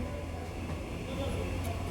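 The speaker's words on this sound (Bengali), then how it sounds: "আমাদের ট্রেনটি কিন্তু এই মুহূর্তে শান্তিপুর জংশন থেকে ডিপার্চার করছে" ICF-coach local train departing platform two at Shantipur Junction in Bengal, a steady dense rumble of wheels and carriage noise heard from inside, continuous throughout.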